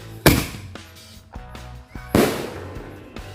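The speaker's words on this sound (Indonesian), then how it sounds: "Mercon bola pelontar." Ball firecrackers launched and exploding on a Ramadan night, two sharp loud bangs about two seconds apart, each with a crackling tail and some thumps in between.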